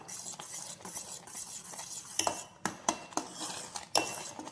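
A spoon stirs a cornflour mango ice cream mixture in a pot over a low flame, with soft swishing broken by several distinct metallic clinks and taps against the pot's rim, close and fairly quiet.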